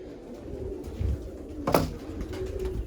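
Soft, low cooing of pigeons close by, a few murmuring calls over a faint background hum.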